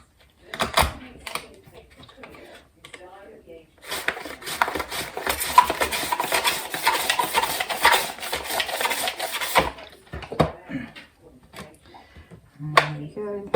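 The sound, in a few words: slicing an orange on a mandolin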